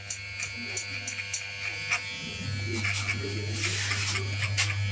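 An electric hair clipper buzzes steadily through an army haircut, with a low constant hum and light snipping texture as it moves over the head. A voice speaks quietly alongside.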